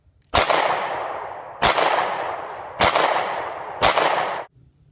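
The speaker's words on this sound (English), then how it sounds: "Now you're loaded and ready to shoot one bullet at a time." Four separate gunshots from a bolt-action gun loaded one bullet at a time, each a loud sharp crack followed by a decaying ring, spaced roughly a second apart.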